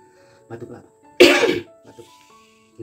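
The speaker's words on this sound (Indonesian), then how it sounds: "Batuk." A single loud, harsh cough erupts in the middle, between bits of quiet speech before and after it.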